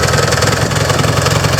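Vintage Gilson S-Twin 18 hp hydrostatic lawn tractor with rear-discharge cutting deck, its engine idling steadily close by with a constant low rumble and slight knocking, no talk over it.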